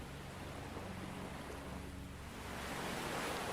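Soft ocean waves wash in a steady, continuous hiss with no voices, the surf swelling slightly louder toward the end.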